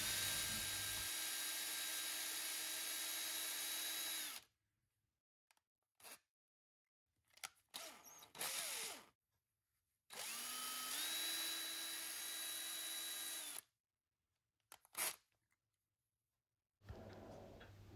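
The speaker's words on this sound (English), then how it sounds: "I put them in my little battery drill with some steel wool and give them a shine up" A small cordless drill whirs at steady speed in two long runs, polishing Kawasaki Z1B carburettor tubes with steel wool, stopping and starting between them, with a few short clicks and bursts in the gaps.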